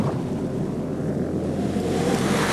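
A killer ocean wave surges ashore as a loud, continuous roar of churning surf and rushing water, mixed with heavy wind buffeting, steady and close without a break.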